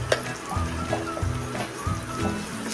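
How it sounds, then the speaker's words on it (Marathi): Asafoetida, turmeric and dry coconut being stirred in hot oil in a pan for potato curry, soft sizzling with repeated scraping stirs in an uneven rhythm, close by, with someone speaking over it. "हे आता चांगलं तेल सुटेपर्यंत आपण परतून घेऊया"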